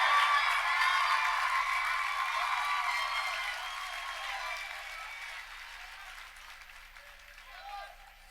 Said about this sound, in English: everybody please stand, give everybody a round of applause